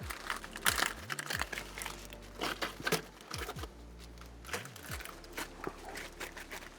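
The ziplock on a flameless heater bag for an MRE-style meal is pulled open with close, crisp plastic crinkling and rustling that comes in irregular bursts and short pauses.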